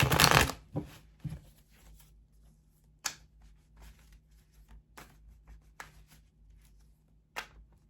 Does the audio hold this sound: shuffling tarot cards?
yes